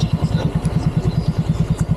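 A motorcycle engine idles close by at a riverside camp in Norzagaray, Bulacan, thumping in a steady, rapid rhythm for a couple of seconds with no voices.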